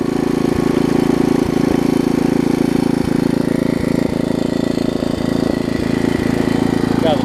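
An 1980s 5hp Briggs & Stratton tiller engine runs steadily close by, a loud, even putter with a regular thumping pulse from start to finish.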